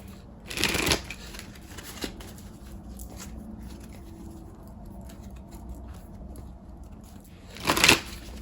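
Tarot cards shuffled and handled: two brisk riffling bursts near the start and end, with quiet card handling and soft rustles in between.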